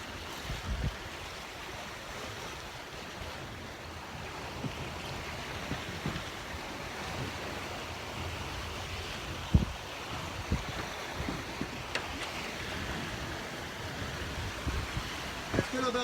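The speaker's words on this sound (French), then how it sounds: "C'est les vagues qui poussent" Sea waves wash and slap against the hull of a sailing boat cruising between Le Lavandou and Rome, a steady rushing wash with wind noise and occasional thumps. Voices are heard now and then.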